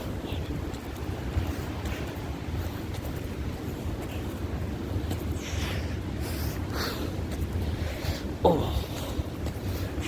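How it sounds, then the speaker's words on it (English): Heavy pouring rain and wind sweep a New York City street, a dense, unbroken roaring hiss with a brief spoken exclamation near the end. "It's pouring, it's windy."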